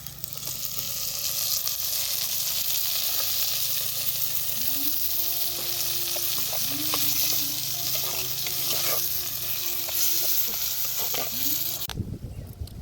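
Ground onion and tomato paste sizzles in a frying pan, a continuous close hiss with scraping and stirring on top, and no voices.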